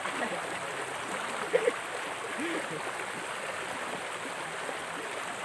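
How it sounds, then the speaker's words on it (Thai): A small stream flowing steadily after recent flooding, a soft continuous wash of water heard fairly close, with a couple of faint voices and a brief knock in the background. "ลำธารนะครับ สวยมาก"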